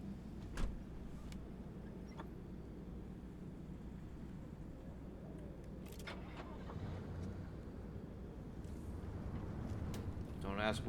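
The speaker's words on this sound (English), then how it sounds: "Don't ask why it still has a combustion engine sound." In the Pacific Drive video game, a car's combustion engine gives a steady, low droning rumble that continues throughout, with a voice talking over it.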